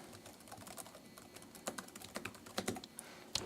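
Fast computer-keyboard typing while writing an email during a game demonstration, a steady patter of light key clicks, close and fairly quiet, with a few louder taps near the end and no talking.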